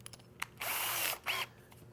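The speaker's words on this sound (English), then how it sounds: "I'm going to switch out to a 3/16" drill bit" A power drill fitted with a 3/16 inch bit bores into wood while installing cabinet door hardware, two short close whirring bursts, the first longer, with quiet gaps around them.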